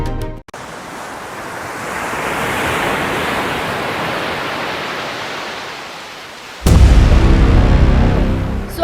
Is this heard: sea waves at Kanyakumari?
yes